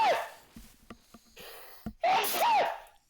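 A single close sneeze with a sharp intake and burst, preceded by a few small breaths and clicks, heard alone without talk.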